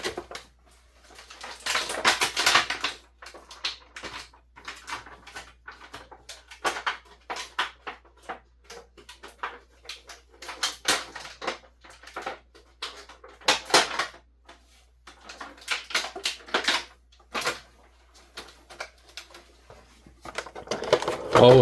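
WWE Maivia Legacy three-pack action figures being worked free of their plastic packaging and zip ties, making a jumble of close, sharp crinkles, clicks and plastic rattles in uneven bursts throughout.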